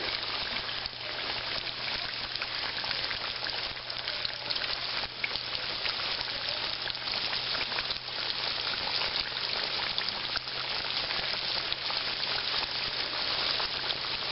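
Breaded chicken tenders coated in crushed kettle potato chips fry in a deep pool of hot oil, giving a steady, dense sizzle and bubbling roar that holds evenly throughout, with no voices over it.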